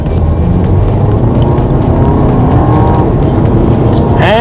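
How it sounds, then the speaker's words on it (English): Skoda Kodiaq SUV with a turbo-petrol engine, in sport mode with manual shifting, accelerating hard at full throttle; a loud, steady engine roar fills the whole stretch and climbs in pitch near the end. "let me floor the throttle for a bit"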